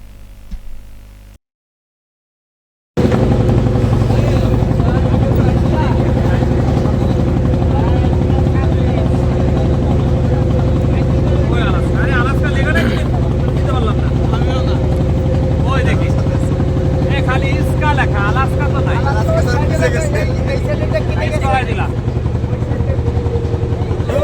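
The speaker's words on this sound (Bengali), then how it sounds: "শিপের সাথে ট্রলার ভিড়ানো হচ্ছে" A trawler boat's engine drones loud and steady as it docks beside a ship at a launch ghat on the way to the Sundarbans, a constant close rumble filling the clip after a brief silent gap.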